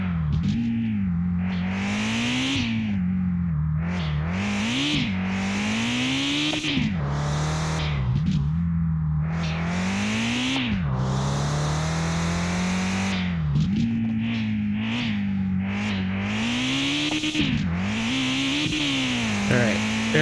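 A Prinz car in the Mon Bazou game revving hard in third gear during a practice lap on a race track, its engine pitch repeatedly climbing and dropping through shifts, loud and continuous throughout.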